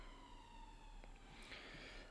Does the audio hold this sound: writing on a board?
no